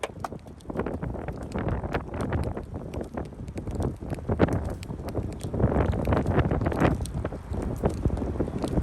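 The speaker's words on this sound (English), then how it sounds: "it's still a very big, very strong tornado, guys. You just can't see it. It's just wrapped in dust. Very strong in there, though. Very loud." Roaring tornado winds from a large, dust-wrapped tornado near Didsbury, Alberta, a loud continuous broadband rush with gusting surges and buffeting against the microphone, no voices.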